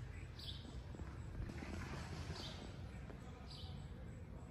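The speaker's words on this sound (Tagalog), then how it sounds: "Yung mga huni ng mga ibon," Birds chirp faintly in a garden: a few short, high chirps repeat at intervals over a soft, steady outdoor hiss.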